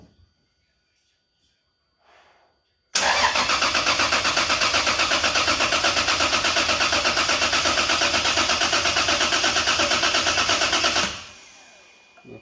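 A Lexus IS300 engine on its first start cranks over in a loud, rapid, rhythmic churn lasting about eight seconds, then cuts off, with near silence before and after.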